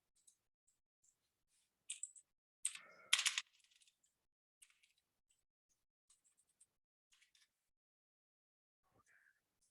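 Brief clusters of keystrokes on a computer keyboard while working in 3D modelling software, a few quiet clicks then a louder burst of rapid typing midway, fading to sparse taps.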